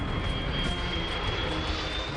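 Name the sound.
aircraft coming in to land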